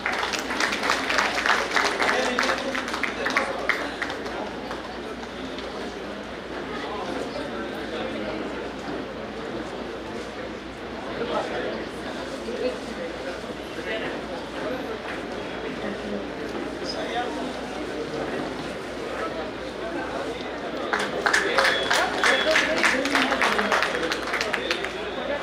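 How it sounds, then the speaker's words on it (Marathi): Audience at a felicitation ceremony in Amravati applauds loudly in a long, dense burst that eases off through the middle and swells again near the end, with the crowd chatter mixed in. "कृपया जोरदार टाळ्या होऊ द्या एकदा."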